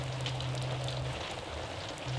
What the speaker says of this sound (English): here's a familiar sound, a spring rain.